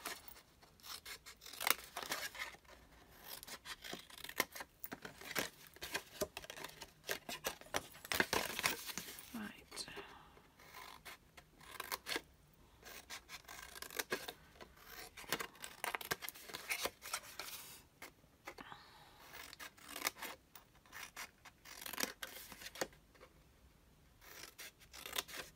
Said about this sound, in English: So the two smaller you want to cut and you want to notch